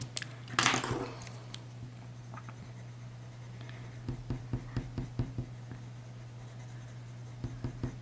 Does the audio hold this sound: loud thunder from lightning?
no